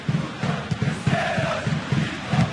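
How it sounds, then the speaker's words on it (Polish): A stadium crowd in the FIFA 12 football game roars and claps, with a rhythmic, pulsing chant-like swell repeating about every quarter second, loud and continuous, and no commentary over it. "I brawa dla Bayernu."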